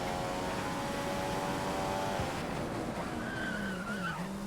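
Formula One race car from the F1 2015 racing game in championship mode, engine whining loud and continuous with tire skids as it drags out of a corner, pitch sliding upward under constant motor roar.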